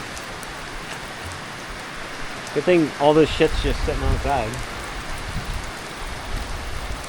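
Rain hisses steadily onto the concrete apron outside a shop, a constant wash of noise throughout, while someone speaks briefly over it.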